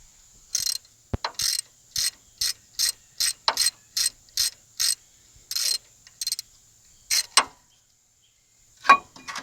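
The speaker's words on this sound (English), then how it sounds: "we're going to take our banjo bolt out" A ratchet loosens a banjo bolt on a disc brake caliper: about a dozen short, crisp bursts of rapid clicking come in a steady rhythm, close and clear, with brief pauses and a few metallic knocks near the end.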